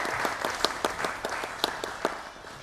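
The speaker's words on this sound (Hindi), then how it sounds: "इस राउंड के बाद इनके लिए कुछ तालियां तो बनती हैं" Studio audience applauding a quiz show team, a brief patter of clapping with a few distinct louder claps standing out over the steady spread of hands.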